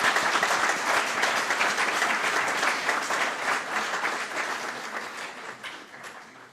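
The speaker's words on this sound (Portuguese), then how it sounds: "Então palmas para Jesus." Church congregation clapping for Jesus: a full, continuous round of applause from many people, loud at first and gradually thinning and fading toward the end.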